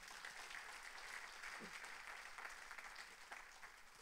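A church congregation claps during a sermon, a sustained wash of many hands applauding at a distance, faint and even throughout.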